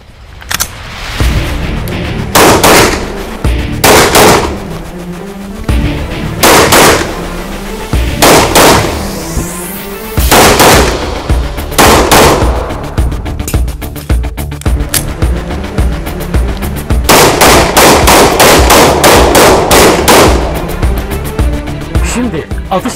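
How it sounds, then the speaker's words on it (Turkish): Gunfire from a special operations shooting drill: close, loud sharp shots come in quick bursts and single cracks across the whole span, and someone talks between and over them. "Şimdi atışların hepsini gerçekleştirdi ve hedeflerin hepsini en doğru şekilde vurduğunu görüyoruz."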